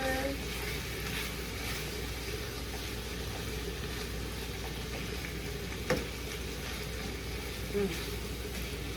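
Sausages frying in a pan while a spatula mixes them, a soft steady sizzle with a couple of faint scraping knocks, quiet and continuous with some voice in the background.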